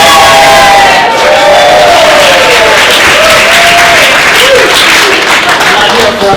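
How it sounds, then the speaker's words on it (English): A crowd at a community-centre meeting on a proposed noise ordinance in Woodstock, New York, bursts into loud applause mixed with whoops and cheering shouts, sustained and close throughout. "I'm not here for applause."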